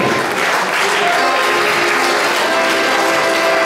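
Festival crowd at an ethno country rock event in Alchenflüh applauds the sound technician, steady dense clapping filling the space loudly and evenly from start to finish, with some faint voices mixed in.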